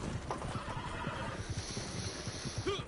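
A horse in the video game Red Dead Online gives a clear whinny over a bed of quick clip-clopping hooves, with a second short neigh rising near the end, all fairly faint and without talk.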